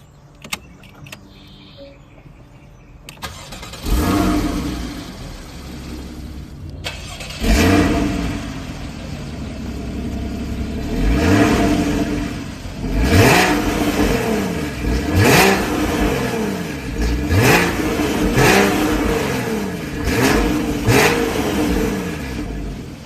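A Porsche Cayman 981's naturally aspirated flat-six engine starts after a few quiet clicks, then revs sharply again and again, each rise and fall loud and close.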